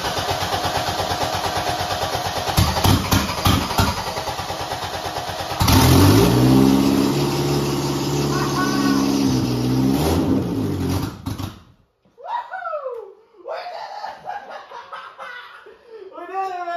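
A Toyota Corolla AE92 SR5 with a 4A-F engine and a Weber carburettor cranks for several seconds, then catches and runs loud and close with rising revs before cutting out; scattered voices and clatter follow.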